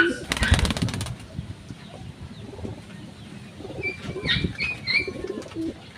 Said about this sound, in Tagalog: Pero nakakalipad-lipad pa rin. Yan mga kalapatids.